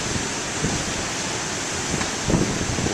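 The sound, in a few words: big ocean waves with wind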